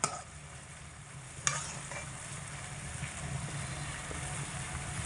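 Boiled papaya pieces are stirred with a spoon through sugar syrup for a papaya chutney, with a soft, steady wet stirring and faint bubbling, marked by one sharp clink of the spoon near the start.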